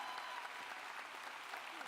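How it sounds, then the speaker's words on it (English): Audience applause at a superintendent's State of the Schools address: a dense, steady wash of many hands clapping at once, sustained and fairly distant throughout, with a voice faintly beneath it. "Let's give them a big round of applause"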